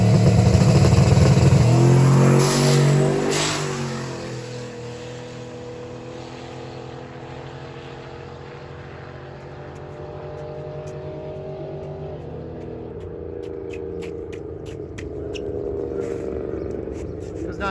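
A Fox body Mustang drag racing down a quarter-mile strip, its engine roaring at launch and winding up through shifts, then fading as it pulls away and holding a steady distant drone.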